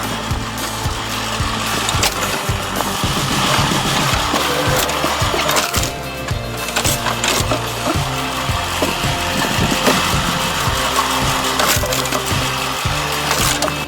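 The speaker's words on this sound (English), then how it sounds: "the saw blade spins at an incredibly high speed to cut through the thick wood" A large high-speed saw blade on a cutting-tree machine chews through a thick log, making a loud, continuous grinding roar with repeated rhythmic knocks and splintering wood throughout.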